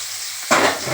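Onions dropped into hot oil, a sudden loud sizzle bursting in after a quiet start and hissing steadily to the end.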